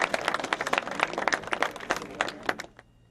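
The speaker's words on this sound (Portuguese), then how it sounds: "O choro se misturou aos aplausos." Mourners at the funeral of a state deputy applaud in a dense burst of clapping from a crowd. It rises and falls unevenly for a few seconds and then quickly fades out.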